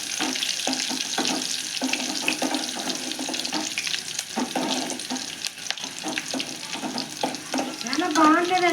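Dried red chillies, tempering spices and a little onion sizzle and crackle in hot oil for a dried prawn curry. The frying is steady and close, with stirring clinks and quiet kitchen noise.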